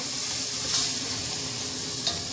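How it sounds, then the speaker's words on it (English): Zucchini squash soup bubbling in a pot over high heat, giving a steady close hiss and sizzle with a couple of brief clinks, no talking. "And it's on high fire. Let that simmer."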